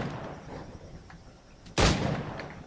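A single sharp gunshot fired at targets in Assassin's Creed IV: Black Flag, a loud close crack near the end of a quiet stretch of game ambience, followed by lingering noise.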